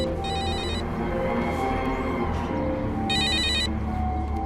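A telephone rings in two short electronic bursts, one near the start and another about three seconds later, over a steady background hum.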